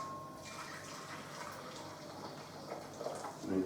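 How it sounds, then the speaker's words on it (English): Hot water pours into a bowl, heard as a steady, soft watery rush that keeps going without a break and gets a bit louder near the end. The sound is faint and there is no talking. "in the bowl, I'm just going to add some hot water"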